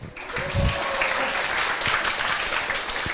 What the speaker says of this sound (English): Let's give them a huge round of applause as they make their way up